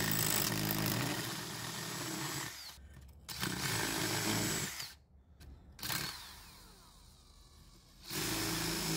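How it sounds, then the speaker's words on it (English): A power drill grinds loudly into pumice rock in several bursts, with short pauses where the motor stops before it starts drilling again. "Continue to press down firmly onto the drill to form a deeper cavity within the rock."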